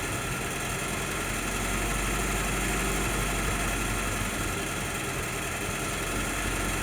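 An M38A1 jeep engine runs steadily and loud throughout, a dense continuous drone with a slight swell in the middle that fits a surging idle, with no voices.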